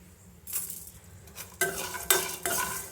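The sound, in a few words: frying coriander seeds and cumin in pan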